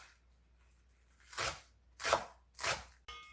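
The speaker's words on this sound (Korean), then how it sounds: "쪽파 한 줌 송송송송 썰어줍니다." A knife chops green onions (scallions) on a board for bean leaf kimchi, three distinct crisp, close thuds at an unhurried pace, with no speech.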